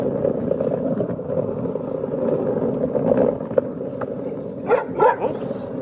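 A Labrador gives a few short barks partway through, heard against a steady background rumble inside a converted ex-NHS Fiat Ducato ambulance.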